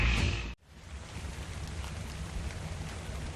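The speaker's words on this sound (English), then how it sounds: "It is raining from the non-existent clouds" Steady rain pouring in the video game ARK, a dense even hiss that starts abruptly after a brief louder burst and carries on without a break, fairly soft and spread out.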